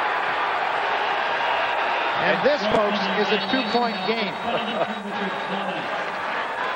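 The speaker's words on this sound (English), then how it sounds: "the crowd that was not in the game now, all of a sudden, loves Illinois State" An arena crowd at a 1990 NCAA basketball game between Illinois State and MU keeps up a steady roar of cheering under a commentator's play-by-play, with sneaker squeaks and ball bounces mixed in.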